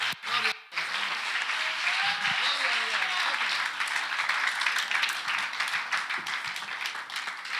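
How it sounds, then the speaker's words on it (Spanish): Church congregation applauding during a sermon with sustained, full clapping after a brief opening dropout, and faint voices rising beneath it. "Ese aplauso al Señor."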